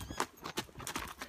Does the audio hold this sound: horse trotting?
yes